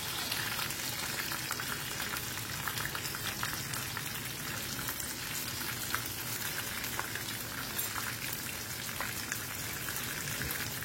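Amudi fish frying in oil on a tawa, with a little oil drizzled over the top, gives a steady, dense crackling sizzle that holds evenly throughout without pause.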